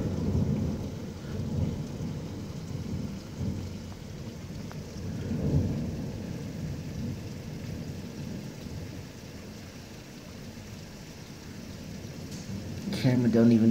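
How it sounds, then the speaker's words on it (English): Heavy rain hisses steadily through a Hill Country thunderstorm, with low thunder rolling and swelling in waves; near the end a voice speaks briefly over the storm. "That's that Hill Country thunderstorm."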